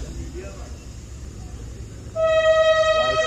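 Departure horn of the Chaman Passenger train at Gulistan railway station: quiet platform ambience gives way to a loud, steady, sustained horn blast that starts partway through and holds to the end.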